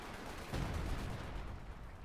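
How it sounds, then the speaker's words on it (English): Artillery fire in the Company of Heroes 2 strategy game, a faint, distant rumbling barrage of low booms with a heavier burst about halfway through, continuing as a steady muffled roll. "Artillery fire running down again."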